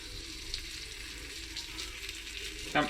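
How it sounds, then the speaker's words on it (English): Butter melting and sizzling in a pan for a seafood chowder, a steady broadband fry hiss held at an even level, with a brief clatter near the end. "First things first, we put our butter in."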